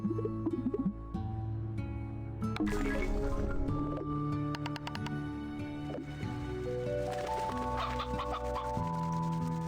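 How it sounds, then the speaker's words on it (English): Chickens on a ranch in the Slime Rancher 2 video game cluck and chatter softly beneath steady tonal game music, with squishy slime noises mixed in, continuous throughout. "Behold my ranch of chickens and slime."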